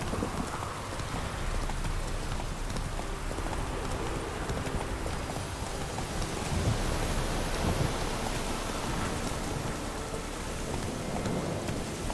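Horse hooves clip-clop at a gallop in The Witcher 3 video game, a steady rhythmic drumming that runs alongside a loud rainy, stormy backdrop with rumbling thunder throughout.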